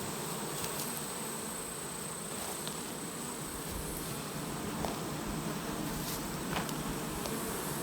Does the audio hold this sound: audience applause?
no